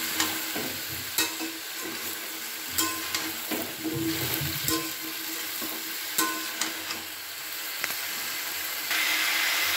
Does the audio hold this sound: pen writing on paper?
no